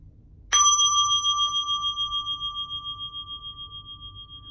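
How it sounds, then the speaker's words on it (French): A single meditation bell is struck once and rings out clearly, its pure tone slowly pulsing and fading over several seconds in near silence. "jusqu'au son de la cloche"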